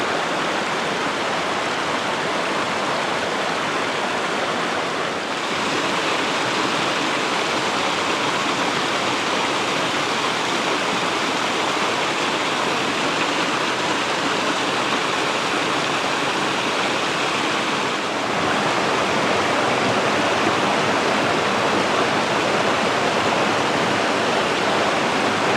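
Steady rushing of a forest stream in Wales, water tumbling over rocks in a continuous broadband wash that stays loud and even throughout, with no voices.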